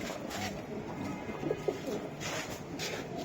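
Budapest pigeons coo softly against a steady background hiss, the low murmuring calls close and continuous through the short stretch.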